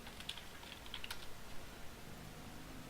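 Quiet, scattered clicking of computer keys being typed, irregular taps with a faint steady hum underneath and no talking.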